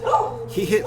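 A dog barks a couple of short yips close by during a LEGO building session, overlapping with a voice.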